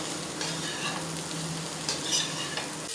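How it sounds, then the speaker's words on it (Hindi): Soft sizzling of potatoes and onion frying with spices while a utensil stirs them, a low continuous hiss with a few light scrapes. "अच्छी तरह से मिक्स कर लेंगे मसाले को"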